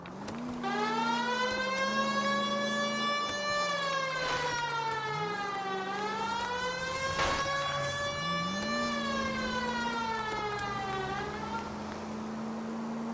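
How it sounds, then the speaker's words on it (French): A loud civil-defense-style siren in the video game GTA wails continuously, its rising and falling pitch sweeping slowly up and down for the whole stretch with no voices over it. "Have you got something against the siren?"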